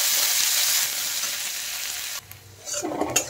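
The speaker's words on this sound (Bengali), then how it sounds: "দিয়ে দিচ্ছি কুচনো পেঁয়াজ। পেঁয়াজটা একটু লাল লাল করে ভেজে নিতে হবে।" Chopped onions dropped into hot oil with whole cumin, a loud steady sizzle close by that drops off sharply, then resumes with stirring and scraping noises from the pan.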